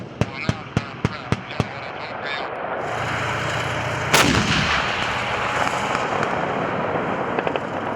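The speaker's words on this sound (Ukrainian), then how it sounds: "Від вибухів земля під ногами колихалася." A rapid series of sharp gunfire reports followed by a heavy explosive blast from tank fire during tank exercises and a long rumbling roar, with continuous loud noise throughout.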